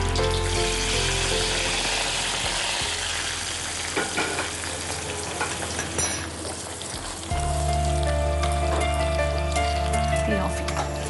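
A hot tempering with curry leaves is poured into a mussel curry, bringing a loud, dense sizzle that runs steadily and then shifts as the pour hits the curry, while a voice speaks over it.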